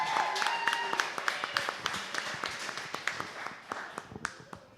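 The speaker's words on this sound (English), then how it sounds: "give them a big round of applause" A live podcast audience applauds, a steady wash of clapping with sharp individual claps standing out and some cheering voices mixed in, moderately loud throughout.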